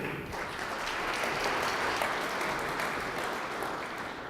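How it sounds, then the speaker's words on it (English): Audience applause at the TechChill 2019 founders' pitch battle for hardware and IoT startups: a steady, dense wash of many hands clapping, sustained and fairly even for several seconds with no talk over it. "a huge round of applause for SEM Drive"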